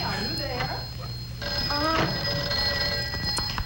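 An old-style telephone bell rings in an old safety film, a bright, steady ring running under people talking over a noisy, hissy soundtrack.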